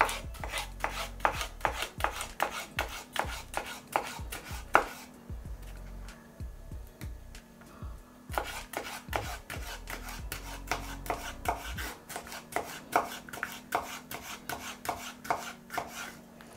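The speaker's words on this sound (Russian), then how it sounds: "вот эту часть нарежу аккуратной соломкой." A knife chops eggplant into thin strips on a cutting board in quick, even strokes, with a short pause midway before the rhythmic cutting resumes, close and clear.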